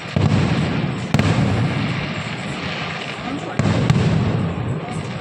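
Fireworks burst during a Dussehra celebration, a loud, continuous crackling and popping barrage with a few sharper bangs, mixed with faint background voices.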